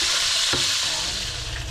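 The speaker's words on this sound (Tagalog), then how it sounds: "Pag-slice ng mga lamas at pag-prito." Slices of fish fry in a pan with a steady, bright sizzle, close up and continuous, with a brief clack of a utensil partway through.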